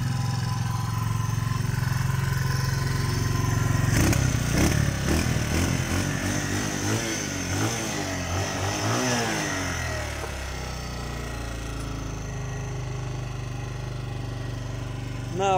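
A Kingston 150cc motorcycle engine idles nearby during break-in, then revs up and settles back to a steady, rough idle.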